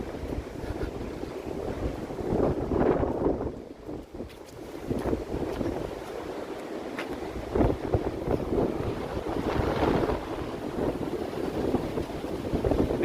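Strong, gusty wind from Storm Eunice roars steadily through treetops outdoors, surging and easing in broad waves with a low rumble throughout and no voices.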